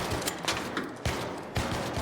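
Bursts of gunfire in the video game ARC Raiders: several sharp, loud shots at irregular intervals over a dense, noisy combat background.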